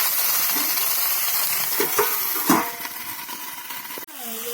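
A vegetable curry sautéing in a pan hisses loudly and continuously, with a few stirring scrapes and a sharp metallic clank near the end.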